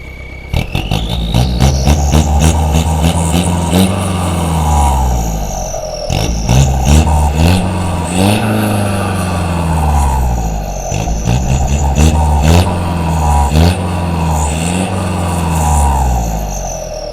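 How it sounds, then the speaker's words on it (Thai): An Isuzu 4JB1 diesel engine fitted with an aftermarket turbo revs hard, roaring up and down in repeated surges, loud and close with no talk over it. "เอาเร่งเครื่องโคตรเร่งเครื่องหน่อย อันนี้มาฟังเสียงตอนเบิ้ลหน่อยนะครับผม"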